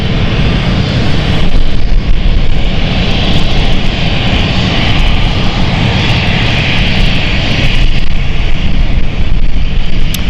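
A KLM airliner departing for Amsterdam roars steadily and loudly with broadband engine noise, holding near-constant intensity throughout with no voices.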